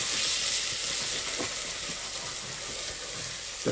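Spices for a vegetable curry frying in a pan, a continuous soft sizzle with a few light stirring scrapes and no voices.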